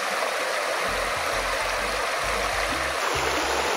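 A river flows steadily with broad, rushing water noise filling the clip, joined by a low rhythmic thumping underneath and no talk.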